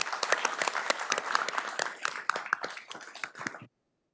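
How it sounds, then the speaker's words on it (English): An audience at a school board regular meeting gives a round of applause. Steady clapping from many hands runs for several seconds, heard from a moderate distance, then cuts off abruptly. "Please give a warm round of applause for our new and maintaining national board certified teachers."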